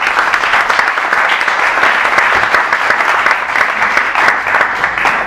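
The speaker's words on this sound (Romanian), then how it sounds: "aplauze pentru fondatorul mișcării Noua Republică, Mihail Neamțu" Conference audience in Romania applauding as the founder of a political movement is introduced, thick continuous applause from a large crowd, loud and even from start to finish.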